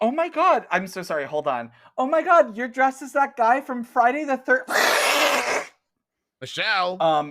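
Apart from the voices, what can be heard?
No everyday noises stand out.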